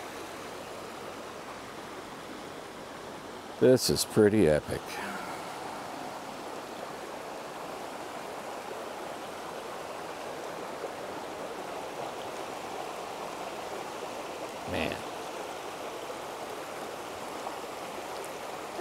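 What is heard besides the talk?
babbling stream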